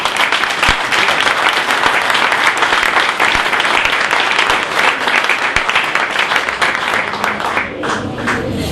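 A hall audience breaks into sustained, dense applause after a political speech, loud and steady throughout with a brief lull toward the end.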